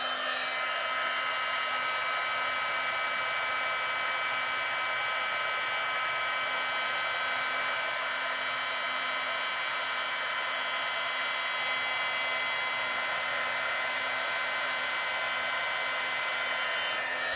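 Heat tool melting copper embossing powder on a stamped card, a constant loud blowing whoosh and fan hum running unbroken from start to finish with no talk.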